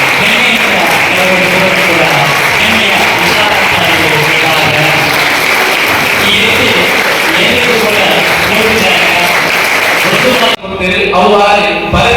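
Loud, dense audience applause at a blood donation tribute, a sustained wash of clapping that cuts off abruptly near the end, where a voice begins speaking.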